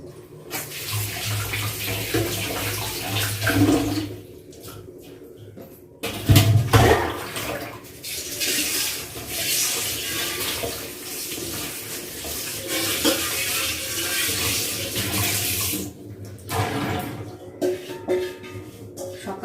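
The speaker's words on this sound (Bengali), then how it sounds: "শাকটা ধুয়ে নিলাম" Spinach full of mud is washed under a running tap, with steady water gushing and splashing nearby, surging louder for a moment midway as the leaves are handled, and no one speaking.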